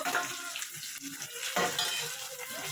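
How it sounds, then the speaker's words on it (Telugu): Tomatoes dropped into a frying pan of cooking meat, giving a steady sizzle with clattering and stirring scrapes of a utensil against the pan, close and moderately loud. "నేనైతే టమాటాలు వేస్తున్నా. టమాటాలు వేసాను."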